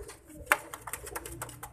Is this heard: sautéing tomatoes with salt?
no